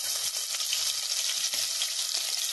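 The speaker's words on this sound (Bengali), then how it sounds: "এই লাল কাঁচা লঙ্কাগুলো আমি এখনই তেলে দিয়ে দেব" Red fresh chillies hiss and sizzle steadily in hot oil for a fish curry, a dense continuous frying crackle close by with faint scrapes, no voices.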